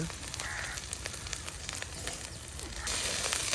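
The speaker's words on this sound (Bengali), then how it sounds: "পেঁয়াজ রসুন সব কিছু একদম ভাজা ভাজা করে নেওয়া হচ্ছে" Onion and garlic frying in a pan over a traditional clay stove, a steady close sizzle with scattered crackles and pops that swells louder near the end, with no talking.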